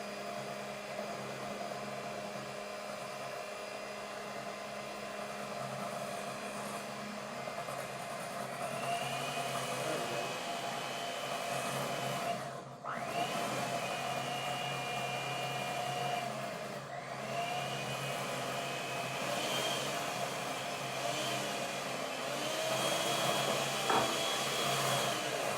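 An electric mixer beats madeleine batter of egg, flour and butter in a home kitchen. It gives a continuous whirring drone with a brief dip, then runs a little higher and faster, with no talking.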